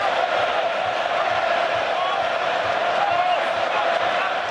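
A rugby stadium crowd in Auckland during New Zealand vs France roars in a steady, distant wash of cheering and whooping, with a commentator talking over it.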